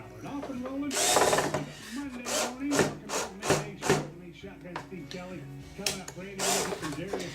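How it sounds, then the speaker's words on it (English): A cordless drill drives a screw into wood on a revolver AR lower build, giving several short whirring bursts with pauses between, close by, with someone talking over parts of it. "So I go ahead and I put one screw in it."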